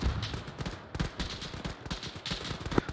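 Rapid bursts of gunfire in a military shooter video game, dense overlapping shots and impacts with a couple of louder sharp cracks near the end, continuous and busy throughout.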